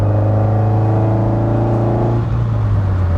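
An SR20-swapped Datsun 510 Bluebird runs its engine in a steady, loud, close drone with strong harmonic tones. The pitch dips slightly near the end.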